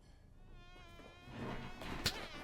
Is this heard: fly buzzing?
yes